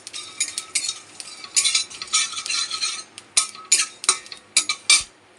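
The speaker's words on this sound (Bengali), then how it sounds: "দেখো চটপট করে মশলাটা ফুটছে" Whole spices for a mutton curry sputter and crackle in a hot pan while a spoon stirs and scrapes them, giving uneven bursts of sizzling and clinking close up, with no voices.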